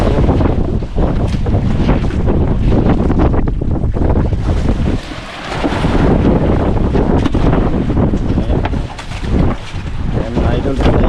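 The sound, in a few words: big waves and wind at sea from a boat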